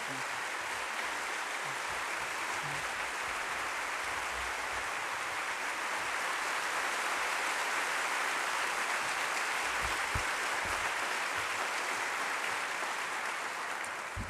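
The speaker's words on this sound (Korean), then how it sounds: "일어서서 한번 박수 칩시다." A standing audience applauds steadily at a theological seminary retreat service, a dense, continuous wash of clapping that holds evenly for the whole stretch with no talk over it.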